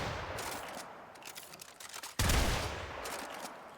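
Tenet Diplos sidearm firing in the Warframe video game, a dense rapid burst of gunfire that fills the clip, surging louder with a heavy impact halfway through before continuing steadily.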